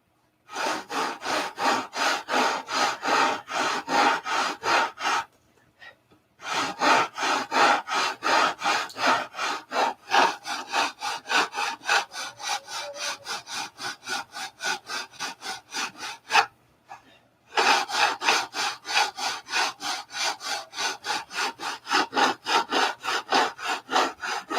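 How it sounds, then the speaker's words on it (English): Hand sanding of a wooden piece being worked thinner and symmetrical, steady rhythmic back-and-forth rasping strokes, close and loud, with two brief pauses. "You got to keep sanding."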